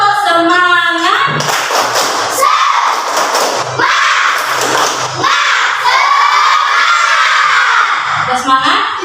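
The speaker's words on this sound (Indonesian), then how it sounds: "Kita tepuk semangat dulu." A class of schoolchildren in an Indonesian classroom performs a rhythmic spirit clap chant, with loud, energetic group shouting and clapping bursts that fill the room, led along by a teacher's voice.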